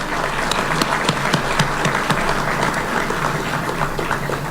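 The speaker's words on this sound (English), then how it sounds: "you deserve a huge round of applause" Audience applause fills the room at the official launch of the Twiga Foods Distribution Center in Kenya, a dense, steady wash of many hands clapping with sharper individual claps popping through, sustained at even loudness throughout.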